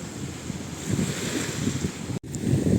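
Adriatic Sea surf rolling onto the beach at Pescara, Italy, a steady close wash of waves with wind buffeting the microphone, broken by one brief dropout near the end.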